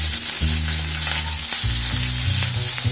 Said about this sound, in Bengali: এখানে আমি কয়েকটা চেরা কাঁচা লঙ্কা ছাড়লাম।